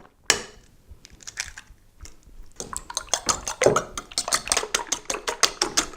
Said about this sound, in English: Give your eggs a good old beat